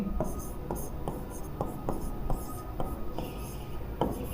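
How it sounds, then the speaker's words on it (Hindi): A new pen writes on paper during a Class 10 maths lesson on HCF: close, scratchy strokes in short regular bursts about every half second, with a faint hiss underneath and no voices. "एक नए पेन के साथ लिखेंगे"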